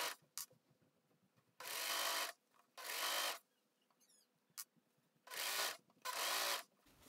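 A serger stitches a knit neckband onto a shirt in four short, whirring bursts of a second or so each, separated by quiet pauses with faint fabric handling, close and clear with no talking.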